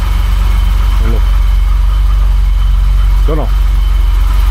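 A BMW 2002 engine idles while warming up, a loud, steady, close rumble with an even low throb throughout and a couple of brief voice sounds over it.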